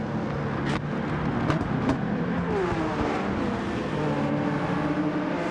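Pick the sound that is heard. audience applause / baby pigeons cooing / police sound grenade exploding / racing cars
racing cars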